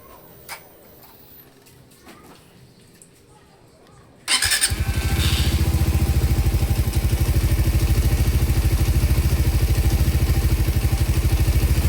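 A fuel-injected Suzuki Raider 150 motorcycle engine, warmed up, starts after a few seconds of quiet and settles into a loud, steady, close idle with a fast rhythmic putter and faint ticking.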